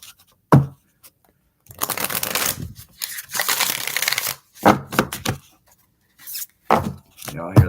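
A deck of 60 cards is riffled and shuffled in several quick bursts of rapid flapping, close by, separated by short pauses.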